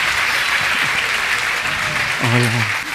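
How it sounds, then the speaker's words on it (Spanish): Studio audience applauding a guest introduced as Jesus of Nazareth on a talk show, steady dense clapping throughout, with a brief voice rising near the end. "Le damos un fuerte aplauso para recibir Jesucristo de Nazaret"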